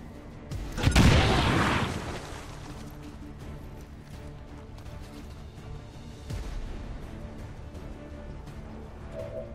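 A grenade blast in XCOM 2 booms loudly near the start, a broad rumbling burst that decays over about a second, followed by a smaller thud later amid low game ambience.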